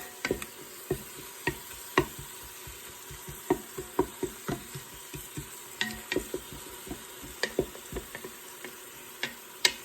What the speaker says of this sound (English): we'll let those onions cook just a little bit